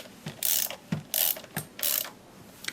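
A torque wrench ratchets as it tightens a spark plug, giving five or six short clicking bursts at an even, steady rhythm. The wrench is close and clear, with no voice.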